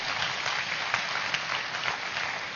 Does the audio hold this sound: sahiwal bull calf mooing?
no